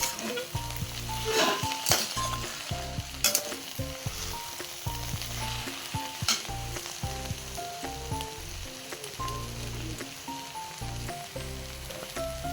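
Vegetarian cabbage curry sizzles steadily in a pan as spices and a little sugar are stirred in, with a continuous close frying hiss and occasional utensil clinks, no talking.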